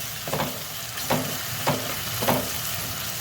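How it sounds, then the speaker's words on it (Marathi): Pav bhaji masala being sautéed with tomato and onion in hot oil makes a continuous close sizzle, with four rhythmic scraping stirs of a spatula at even intervals and no talking. "आता तोही आपण ह्या टोमॅटो कांद्याबरोबर परतून घेऊया अगदी तेल सुटेपर्यंत"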